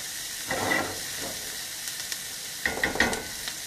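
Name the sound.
lamb and vegetables sizzling in oiled pan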